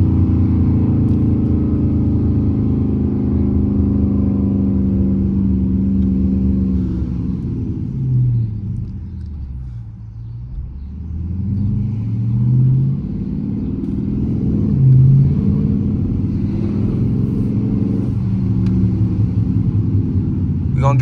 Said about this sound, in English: I don't want to wake everybody up with the Charger RT